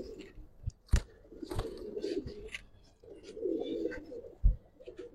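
Giribaz pigeons coo in low, soft murmuring phrases, close and fairly quiet, broken by sharp handling clicks and thumps.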